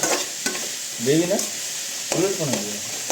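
Tempering spices sizzle and crackle in hot oil in a pan while a spoon stirs and scrapes in two short bursts, close up.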